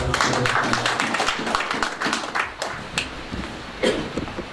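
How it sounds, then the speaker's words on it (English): Another round of applause from a lecture audience: dense, continuous clapping from many hands throughout, with a few sharper individual claps standing out near the end. "Let's give another round of applause."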